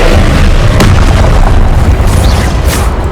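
A Confringo spell explodes in Hogwarts Legacy with a loud, sustained booming blast and a rumbling wash of noise that fills the whole three seconds.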